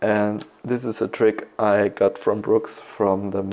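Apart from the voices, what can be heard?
None of the usual background noises is heard.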